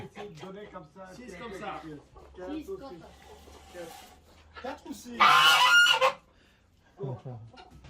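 Geese honking on a farm in Belgium, a loud burst of calls near the middle with scattered honks around it, heard under and between people talking nearby.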